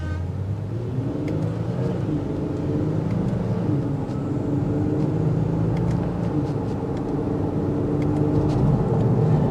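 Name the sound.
2024 Nissan Pathfinder Rock Creek accelerating from a light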